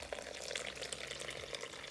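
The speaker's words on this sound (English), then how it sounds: "Now we're going to add water." Water is poured into flour while making mathri dough, giving a steady close splashing trickle throughout with no speech.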